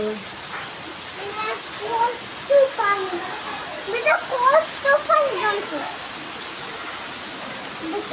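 Steady rain hisses in the background while a person talks over it at close range.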